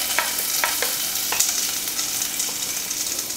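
Curry leaves, chopped garlic, green chillies, ginger and shallots sautéing in hot oil, a bright continuous hiss with a few quick spatula scrapes close by.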